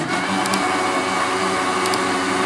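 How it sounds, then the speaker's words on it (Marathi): A mixer grinder whirs steadily and loudly, blending chikoo with milk into a milkshake, a continuous motor drone with a constant pitch that cuts off abruptly at the end. "आता हे चांगलं मिक्सरला फिरवून घ्यायचं"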